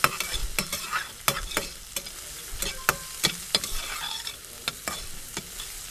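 Onions fry with chili powder in a pan in a Kerala-style resort kitchen in Wayanad, a soft steady sizzle broken by repeated sharp scrapes of a spoon stirring against the metal.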